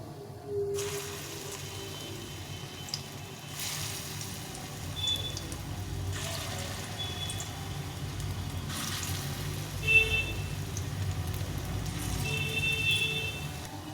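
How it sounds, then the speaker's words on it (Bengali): Coriander leaf fritters fry in oil with a soft, continuous crackle and sizzle. Brief louder bursts of spattering come every few seconds, close by, with no talking. "বাকিগুলো ভেজে নেবো এইভাবে করে"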